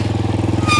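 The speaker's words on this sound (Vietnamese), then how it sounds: "Thế phải đi xe máy rồi." A motorbike engine idles close by with a steady, rhythmic low putter that holds evenly throughout the short stretch, along a rural route to a work shed.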